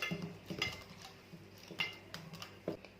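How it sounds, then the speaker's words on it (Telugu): Flattened rice flakes are swished and washed in a bowl of water, giving faint scattered clinks and taps of the bowl with soft water movement, quiet and close, with no talking. "ఒక బౌల్లో నీళ్లు తీసుకుని ఈ అటుకులు వేసి కడగాలి"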